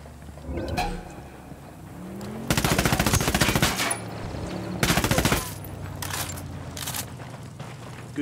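Automatic gunfire in Tom Clancy's Ghost Recon, with two long loud bursts of rapid shots and scattered single cracks over a rumbling firefight background.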